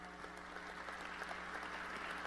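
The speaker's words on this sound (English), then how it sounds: "I noticed some folks clapped" An audience clapping during a political speech about car and truck fuel efficiency, a faint, dense patter of applause that sounds distant and slightly muffled, continuous throughout with no voices on top.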